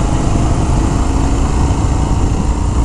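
Loud, steady engine roar from a 2019 Indian FTR 1200 S motorcycle under hard acceleration, a dense continuous drone held close throughout with no talking.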